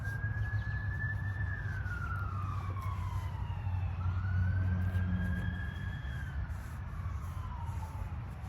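A wailing ambulance siren sweeps up and down as it passes, loud and steady over a low rumble of traffic.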